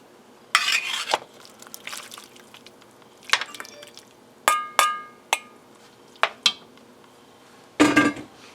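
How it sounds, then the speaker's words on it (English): Metal utensils clink against a stew pot while meat is added back in for an Irish stew, with scattered scrapes, knocks and a few sharp ringing taps spaced irregularly at close range. "Now we're going to add all the meat back in."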